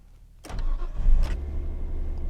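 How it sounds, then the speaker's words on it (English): A Nissan Skyline R34 sedan engine cranks briefly on a cold start, catches and fires up, then settles into a steady, loud idle close by. "Give it a cold start."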